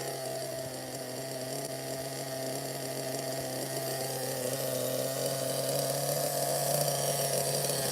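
A vintage RC car engine with an oil leak, running low on fuel, drones steadily with a buzzy, rasping tone that holds constant and grows slightly louder near the end, with no voices.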